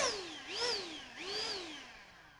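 A Ryobi power tool blows air in two rising and falling whirs, its motor pitch climbing then dropping as it spins up and eases off, close and alone.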